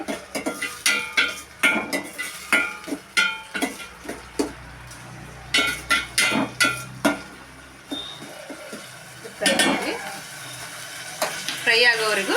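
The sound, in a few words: vegetables frying in a pan for masala puri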